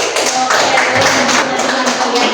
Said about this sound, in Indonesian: tepuk tangan yang lagi